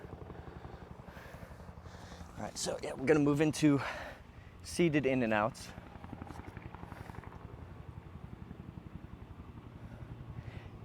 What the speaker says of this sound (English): got a helicopter out here?